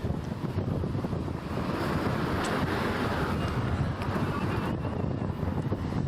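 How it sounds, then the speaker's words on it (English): Gusty wind on a windy day in Novato, California, roaring steadily against the microphone as a dense, unbroken rumble with no talk. "just enjoy this windy day in Novato"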